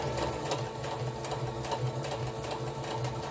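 A small Star sewing machine, an old family model, stitches through a quilt sandwich of top, batting and backing at long stitch length, its motor whirring in a steady rapid chatter, close and continuous with no talk.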